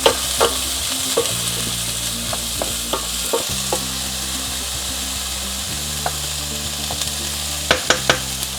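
Carrots stir-fry with beef for beef with broccoli in a hot pan, with a constant loud sizzle, a low steady hum underneath and repeated sharp spatula knocks and scrapes, clustered toward the end.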